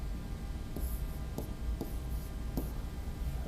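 Pen or marker strokes scratch out a math problem on standard form, a few quiet, brief scraping bursts over a steady low background hum, with no talking.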